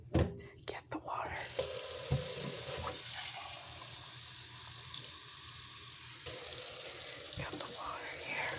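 Water runs steadily from a kitchen tap for making instant coffee, a soft hissing stream that starts after brief handling clicks, pauses for a moment, then resumes, close and fairly quiet.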